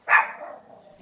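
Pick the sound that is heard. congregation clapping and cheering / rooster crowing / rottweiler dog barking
rottweiler dog barking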